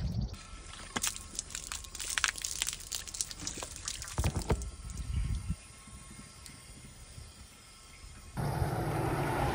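Water running into a camper travel trailer's tank at a campground, a continuous splashing hiss with scattered clanks and knocks, shifting in level partway through and growing steadier near the end.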